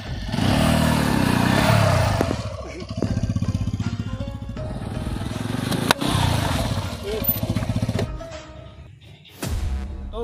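A motorbike engine revs and clatters at close range while riding over balloons, with the engine rising and falling and sharp pops and bangs along the way, and someone talking over it.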